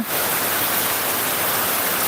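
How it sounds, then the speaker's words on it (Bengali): Rain falling steadily in northern Bangladesh, a dense, uniform hiss of heavy rainfall that stays loud and constant with no voices. "একটু আড্ডু বৃষ্টি হচ্ছে"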